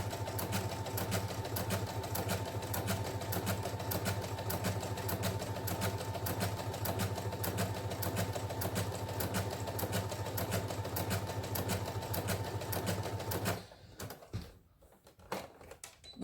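A sewing machine runs a long straight basting stitch through fabric with a fast, even mechanical chatter for about thirteen seconds, then stops abruptly, followed by faint handling noises.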